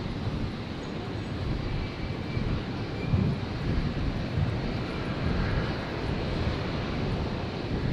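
Qantas jet departing from runway 01 right at Brisbane airport, a sustained deep rumbling engine roar, strong and steady with no talk over it.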